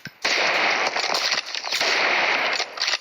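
Rapid gunfire in a video game, shots fired without a scope, a loud dense burst of sharp cracks in quick succession, nearly continuous with brief gaps.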